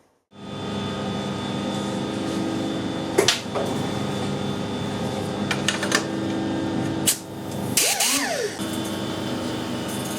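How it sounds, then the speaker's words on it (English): A high-speed air die grinder clamped to a lathe tool post dresses the chuck jaws, producing a steady high whine with sharp knocks and clatters scattered through and a brief dip and rise in pitch near the end. "I've got a high speed air die grinder set up, just basically clamped onto the tool post."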